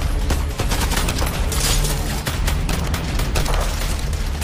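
Gunfire in an action film shootout, rapid bursts of loud shots and booms, dense and continuous throughout with no talking.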